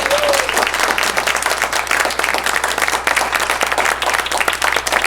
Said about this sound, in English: Can you please give a loud round of applause for all of our candidates today?